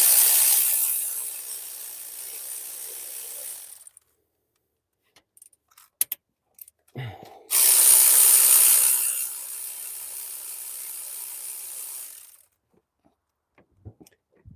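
A ratchet with an extension backs out bolts on an L92 engine from a Denali, giving two long stretches of rapid clicking ratcheting with small taps and clinks of metal in between, close and clear with no talking.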